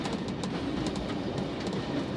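London Underground train running near Aldgate Station, heard from the front cab as a steady, loud rumble with a faint rhythmic clatter of wheels over the rails, continuous throughout and without speech.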